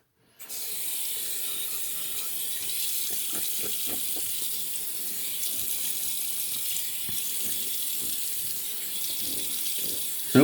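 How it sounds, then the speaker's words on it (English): A faucet runs steadily into a sink for about ten seconds while a face is rinsed after a wet shave, with splashing and small bumps under the continuous flow. "So I'm going to rinse off my face"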